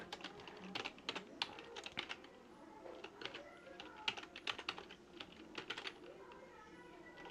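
Code is typed quickly on a computer keyboard for a Pygame tutorial, giving close, crisp key clicks in uneven bursts with brief pauses, alone and fairly quiet.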